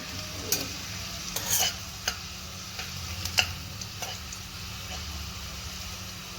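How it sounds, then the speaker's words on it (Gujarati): Eight to ten garlic cloves frying in oil in a pan, giving a steady moderate sizzle with scattered sharp ticks and spatula scrapes, heard close with no voices. "લગભગ 8 થી 10 લસણની કળી નાખીશું આપણે. જે ગુલાબી થાય ત્યાં સુધી આપણે એને"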